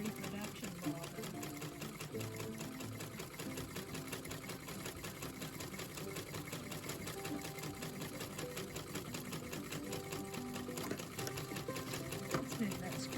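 A Singer class 15 sewing machine winds a new reproduction bobbin with a steady, rapid mechanical whir and rhythmic clatter, quiet and close, while a person talks over it.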